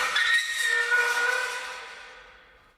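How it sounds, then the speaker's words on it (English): A rusty metal gate gives one long, tonal creaking squeal, fairly close and alone, which starts strong and slowly dies away over a few seconds. "Christian has recorded a rusty gate that sounds like this."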